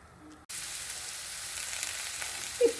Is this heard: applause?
no